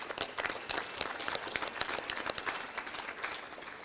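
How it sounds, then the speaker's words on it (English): Applause at a high school FFA banquet for students who each sold over $1,000 of products, a steady round of clapping from the seated crowd that fills the room evenly for a few seconds. "So give them a quick round of applause for just that."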